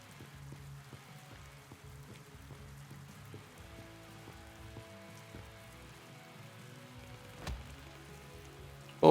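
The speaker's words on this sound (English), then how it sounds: "I do like the rain though. It's nice. Adds good atmosphere and little background sound." Steady rain ambience from the video game Replaced, a soft continuous patter of raindrops on surfaces with faint low background hum, with no speech over it.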